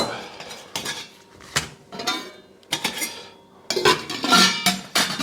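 Metal cookware clinks and clatters as a folding cup and lightweight pieces are nested into a cooking pot, a series of sharp knocks and rattles close by with short pauses between.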